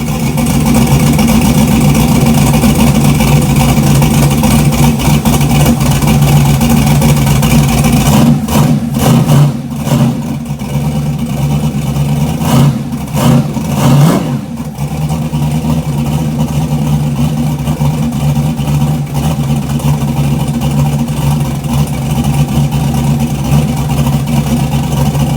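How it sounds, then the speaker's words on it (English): A carbureted turbocharged LS V8 running on E85 fires up for the first time and idles loud and steady, with a stretch of uneven stumbling and sputtering partway through before settling back into a continuous rumble. "we gave it a shot at firing it up."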